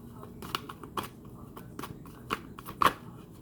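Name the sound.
shuffling tarot cards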